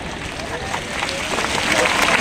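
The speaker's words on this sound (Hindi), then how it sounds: "आप बजाओ ताली खुद पे।" An audience at a motivational talk breaks into clapping, a broad noisy patter that builds slightly louder toward the end, mixed with some murmuring crowd noise.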